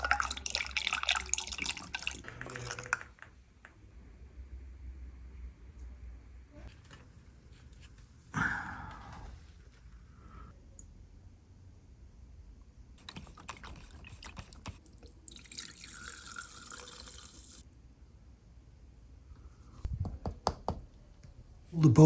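Tap water running into a bowl in intermittent bursts of close splashing and trickling, broken by quiet pauses and small clicks and handling noises.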